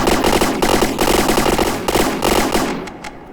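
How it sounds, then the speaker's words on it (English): Turret guns in the game From the Depths fire in a rapid, continuous burst, loud and close, with dense overlapping shots that thin out in the final moments. "So, yeah, as you can see, they can fire pretty quickly."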